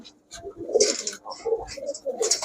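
Giribaj high-flyer pigeons at a pigeon shop coo in soft, repeated bursts close by, with several overlapping calls and brief chirps and no talking.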